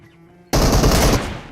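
Sniper rifle fire in a multiplayer team deathmatch shooter game, a sudden loud blast that erupts from near quiet and rolls on in a dense, sustained burst before slowly fading.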